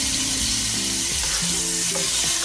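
Chicken gizzard for adobo sautéing in a pan, a loud, steady sizzle and crackle of frying running the whole time with no talk.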